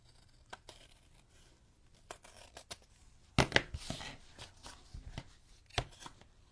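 Paper being trimmed for a junk journal, with scattered crisp snips and a burst of rustling, tearing-like crinkle midway, close and fairly quiet with no talk.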